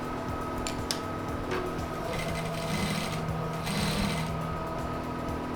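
A sewing machine runs steadily, stitching the fabric lining of a double-vent suit jacket with a continuous mechanical whir and faint rhythmic ticking, close up with no talk.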